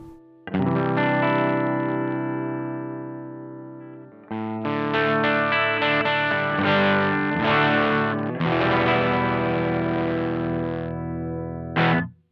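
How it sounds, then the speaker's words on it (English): Electric guitar through a Tym Guitars Black Mud overdrive pedal, sustained chords and ringing notes, a brief pause near the middle, then more gritty strumming ending in a sharp final hit. "to bring it into that overdrive territory when you use that high and low switch"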